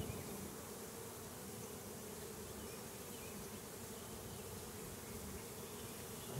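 Honey bees buzz steadily around an overwintered nuc hive, a faint, even drone of many wings holding constant throughout without talk.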